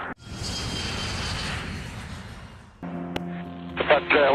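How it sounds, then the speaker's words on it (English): An Alaska Airlines MD-83 jet airliner roars over the California coast as a loud, steady engine rush that fades out. A sharp click follows, then a tonal hum with higher chirping sounds. "The Alaska Airlines MD-83 zooms over the California coast."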